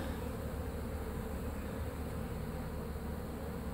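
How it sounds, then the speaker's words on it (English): A swarm of honeybees hums steadily around someone during a removal job outdoors at Lake Hollingsworth, Florida, a close, even buzz with no voices. "that's why you see all these bees flying around me like this."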